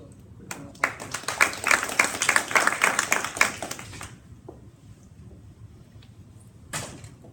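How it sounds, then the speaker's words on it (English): Brief round of applause from a forum audience, a few seconds of crisp clapping that swells then stops abruptly, followed by quiet room tone and a faint knock. "So, quick round of applause."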